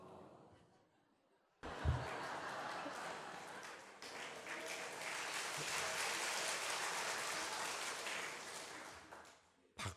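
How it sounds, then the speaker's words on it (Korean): Audience clapping breaks out suddenly and swells into sustained, dense applause from a crowd gathered for a church service, holding steady for several seconds before tapering off. "박수를 아끼지 않고 치시네요."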